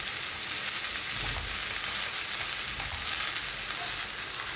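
Green chilies, ginger and coriander frying in a pan give a steady, soft hiss of oil sizzling close by, with faint low stirring bumps and no talk.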